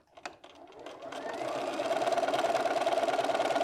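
A sewing machine joins charm pack quilt squares, starting with a few clicks and handling sounds before settling into a loud, even, rapid stitching hum heard close up.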